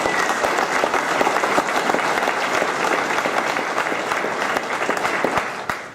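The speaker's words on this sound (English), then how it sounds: "if we could give them a round of applause" Town hall audience applauding fire volunteers, a steady, full crowd of clapping hands that stays loud and even across the whole stretch, with a few sharper individual claps standing out.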